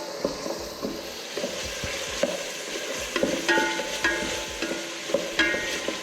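Cardamom pods and bay leaves fry in a pan for Nasi Mandy with chicken, a close crackling sizzle with intermittent scraping and stirring clatter from a utensil, rising in spurts toward the end.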